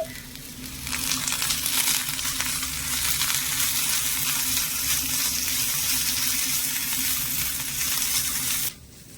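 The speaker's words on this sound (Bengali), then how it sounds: "আদা আর রসুনটা দিয়ে খুব বেশি ভাজা যাবে না একদম অল্প কিছুক্ষণের জন্য একটু নেড়ে চেড়ে নেব" Crushed ginger and garlic frying with onion and curry leaves in a hot pan, a loud continuous hissing sizzle with stirring scrapes, close up, ending abruptly near the close.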